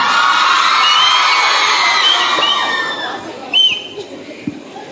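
A large crowd of students at a college law school cultural festival cheers, whoops and shouts loudly for several seconds, then the noise thins into scattered yells and chatter.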